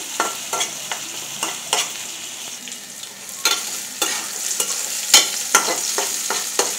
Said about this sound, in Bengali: প্রথমে আমি তেল দিয়ে দিব, তার মধ্যে পেঁয়াজ দিয়ে দিব